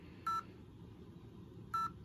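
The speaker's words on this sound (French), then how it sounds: "Ah, mais c'est le bip de tout." An Akaso V50x action camera gives two short electronic beeps about a second and a half apart, crisp and close over a quiet background.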